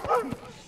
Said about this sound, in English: Oh, oh no, not dogs.